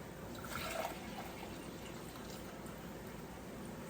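White vinegar poured from a container into a 2-cup measuring cup for pickling brine, a soft close liquid trickle and splash that swells briefly and then continues as a faint steady stream.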